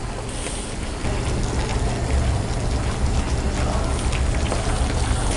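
Maggi noodles are stirred in a pot of boiling water for garlic chilli noodles, a loud bubbling, churning wash that swells after the first second and continues steadily without speech.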